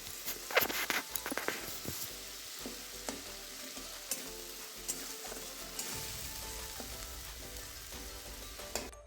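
Chopped ripe tomato simmers with spices and a splash of water for a Bengali winter mixed-vegetable dish, giving a steady close sizzle and bubbling with a burst of spoon scrapes and clatter near the start.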